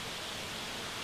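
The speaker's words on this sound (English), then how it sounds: "As you approach the house, the sound of flowing water rises until it envelops you." Bear Run stream flows beneath the Fallingwater house, a steady, dense rush of water that fills the whole moment without any voices.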